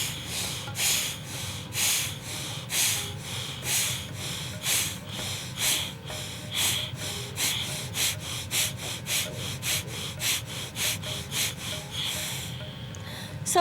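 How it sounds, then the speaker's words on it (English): Rapid forceful breaths pushed out through the nose in a yoga breathing exercise, a steady run of about two dozen sharp, close exhales with brief pauses, ending in a short burst, no talking over it. "the inhale will be through the nose, through the nostrils, and the exhales through the belly"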